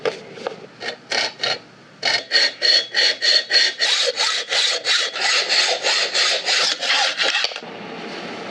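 A small hacksaw cutting a half-inch Damascus steel ring blank in half, held in a makeshift vise: a few hesitant strokes, then a loud, close, steady series of rhythmic rasping back-and-forth cuts, fading to a quieter rasp at the end.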